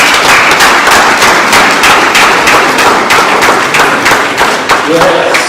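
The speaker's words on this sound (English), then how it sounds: "Come on, clap for yourself." A large conference audience claps loudly and steadily, a dense wash of many overlapping hand claps close by, sustained for several seconds with little variation and no clear voices.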